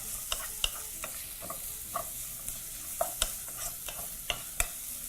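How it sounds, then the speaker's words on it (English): Wooden spoon stirring aromatics, including onions, in a pot for an arrowroot stew, giving scattered light scrapes and taps against a soft background sizzle of frying, close and fairly quiet with no talking. "we're going to be using our wooden spoon to mix that through"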